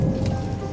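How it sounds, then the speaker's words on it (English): A sudden summer downpour over an archaeological dig in Britain, a dense, steady hiss of heavy rain drumming on surfaces close by, with no voices over it. "unleashing a sudden downpour"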